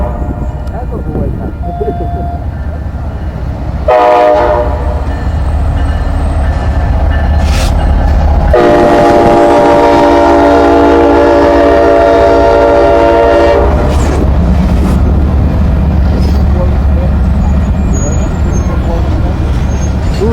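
A freight train with extra-long boxcars rolls past close by, a loud continuous rumble and clatter with a sustained horn blast in the middle and brief voices over the noise.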